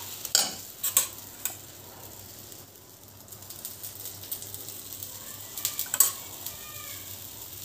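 Sweet dosa fries in oil on a pan with a faint, steady sizzle, broken by a few sharp scrapes and taps of a spatula against the pan, close and quiet overall.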